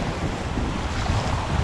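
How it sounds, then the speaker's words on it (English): Ocean surf rolling onto a Florida beach, a steady, loud wash of breaking waves mixed with gusty wind buffeting the microphone, no voices. "A lot of noise here in these waves"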